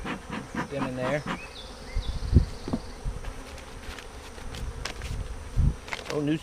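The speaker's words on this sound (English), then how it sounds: "I want these bees in here." Honeybees drone steadily around an open hive during smoking, a dense close buzz that fills the scene, with occasional handling knocks and brief bits of a voice.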